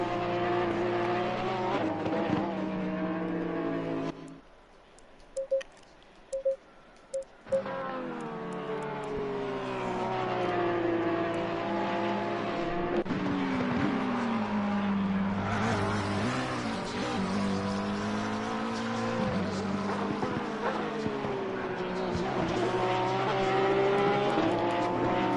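Race car engines howling around a track in a racing video game qualifying session at Zolder, loud revving with rising and falling gear changes, a brief near-silent gap, then continuous engine roar.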